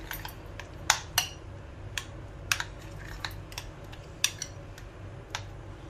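A spoon clinks and scrapes against a bowl while pineapple pudding mixture with condensed milk is stirred, giving sharp irregular taps over a quiet background with no voices.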